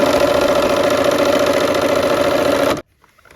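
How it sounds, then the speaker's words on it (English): A sewing machine stitches a pinwheel quilt seam with a loud, close, steady mechanical whir that runs continuously and then stops abruptly, leaving near silence. "we're here at the machine, sewing this last seam for the pinwheel part"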